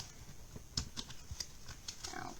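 Stiff new playing cards being shuffled by hand at a table, a quiet series of crisp riffling clicks and flutters in uneven bursts, close and fairly faint.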